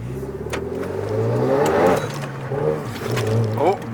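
Renault Megane RS engine revving under a jolty clutch, a mid-pitched motor rising and falling through a few quick throttle swells close by, with people talking over it.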